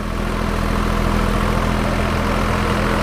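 A Sonalika tractor engine running with a rotavator fitted with new blades makes a loud, continuous low diesel drone with a steady throb close by, and no voices are heard.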